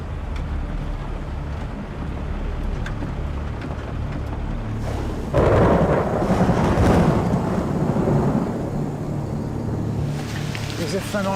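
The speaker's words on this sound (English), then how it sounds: "the thunder's just let rip too. And there's that Amazon downpour." Thunder rumbles and cracks through a heavy Amazon rainstorm at night, a broad roar swelling loudly midway and then easing back into steady downpour noise.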